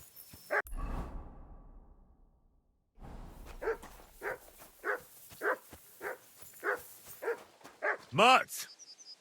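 Dog barks in a medieval video game, a run of about ten evenly spaced yaps following a soft whimper and a brief hush, close and fairly loud with no one talking over them.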